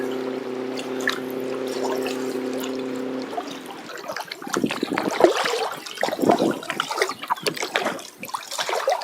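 Choppy river waves splash and slap against a small boat on the Vistula, irregular and close, after a steady droning hum that cuts off early.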